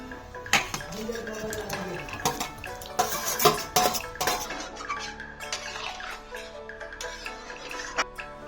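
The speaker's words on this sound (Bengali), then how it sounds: "এবার ঝোলের মধ্যে দিয়ে দিচ্ছি ভাজা আলু" Fried potatoes are tipped into simmering gravy in a pot for a vegetarian aloo dum, with clattering metal clinks, soft wet splashes and scrapes in an uneven close burst.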